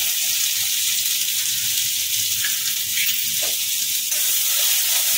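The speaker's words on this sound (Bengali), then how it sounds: "মশলাটাকে ভালো করে ভাজবো" Spice masala fries in hot oil after a whole-spice tempering, as a steady bright hiss and sizzle with no voices.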